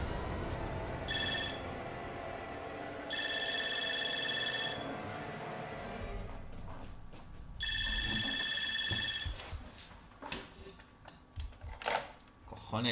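A telephone ringing in the horror video game Resident Evil 7, a repeated electronic ring in three bursts separated by pauses, followed by rustling game sounds and a faint voice.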